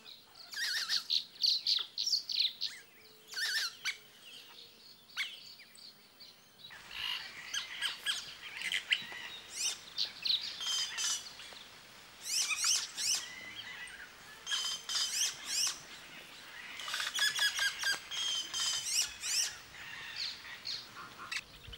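Japuira birds sing in the Amazon jungle, giving bright squawks and chirping calls in repeated bursts, some clustered and rapid, over a faint forest background.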